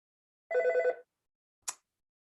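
A telephone bell rings once in a council meeting room, a single harmonic burst of about half a second followed by a short sharp click, with no talk over it.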